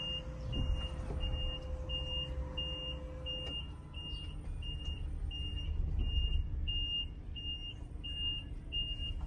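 Reversing beeps from an electric Volkswagen e-Crafter van in reverse gear, a steady series of short evenly spaced high tones over a low vehicle hum, with a faint continuous tone fading out partway through.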